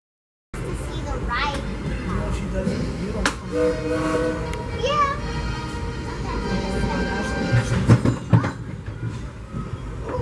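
The Disneyland Railroad train rolls along with clickety-clack and rattling cars, a whistle sounding as it slows into the Mickey's Toontown station, with voices talking over the rumble.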